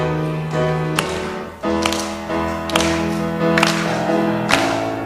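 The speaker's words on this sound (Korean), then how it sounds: "우리 박수 치시면서 찬양하겠습니다." Church congregation clapping hands in rhythm while singing a worship song, sharp claps landing at regular beats over sustained sung melody and accompaniment, close and fairly loud.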